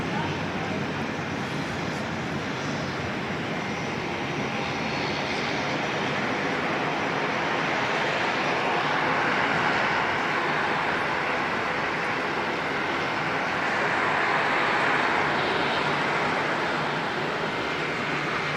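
A China Airlines airliner passes close by at Auckland Airport, a loud broad jet roar that holds steady and swells slightly toward the end.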